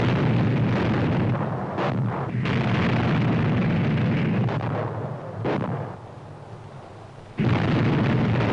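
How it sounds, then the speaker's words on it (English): Heavy naval gunfire as a cruiser far out at sea shells the landing beaches, a dense continuous roar of shell blasts and booms rolling together, dipping briefly before another loud burst near the end. "Far out to sea, a cruiser gets the signal to start the bombardment of the beaches."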